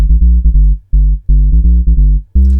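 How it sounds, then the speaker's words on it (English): Deep square-wave bass from a retro synth, played staccato with no compression: a run of short, loud, punchy low notes in an uneven rhythm with brief gaps, alone and close. "this other synth here, which is the retro synth, doing a deep square bass"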